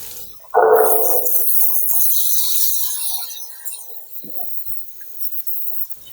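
Dry chickpeas tipped into a pan of sizzling ginger-garlic masala for chola bhaji, a loud sudden pour and hiss that settles into a steady frying crackle, close and alone.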